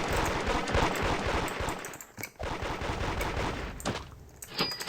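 Rapid SCAR rifle gunfire in Fortnite rattles in dense automatic bursts, loud and close, with brief pauses between volleys and no talking.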